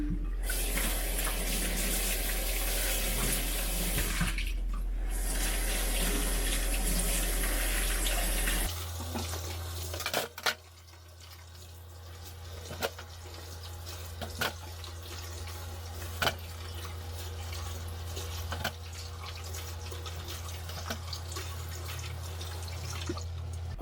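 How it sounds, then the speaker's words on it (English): Water runs steadily from a tap into a sink while guavas are washed, a constant close hiss whose tone shifts partway through as the flow changes, with scattered small clicks and splashes. "now I'm going to wash these guayabas with filtered water."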